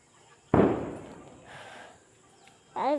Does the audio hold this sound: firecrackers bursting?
yes